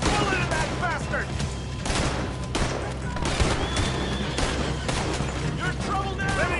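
Gunfire in Red Dead Redemption 2 rings out as rapid, repeated shots in a chaotic firefight, loud and dense throughout, mixed with shouting voices.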